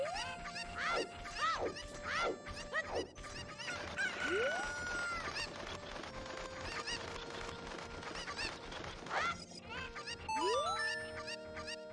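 Chickens cluck and a rooster crows in the Ocarina of Time video game, with repeated rising squawks and steady game background music throughout.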